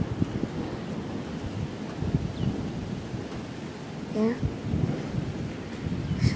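A severe thunderstorm with steady heavy rain and wind buffeting the microphone, low thunder rumbling through, and a brief voice speaking over it.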